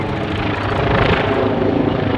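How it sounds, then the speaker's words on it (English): A TAI Gökbey multi-mission helicopter flies at the Farnborough Airshow, its rotor and engine roar loud and continuous with a dense, steady wash that fills the whole moment. "TAI Gökbey, helicopter designed and optimized to meet multi-mission requirements."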